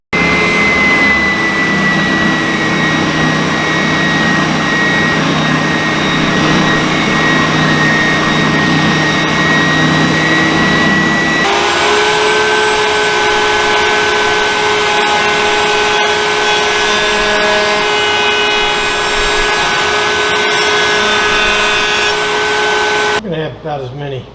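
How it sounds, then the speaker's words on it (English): A drum sander smooths the cut wooden parts of a small stool being restored, a loud steady whining roar that shifts pitch partway through and runs continuously, then cuts off abruptly at the end. "on my drum sander."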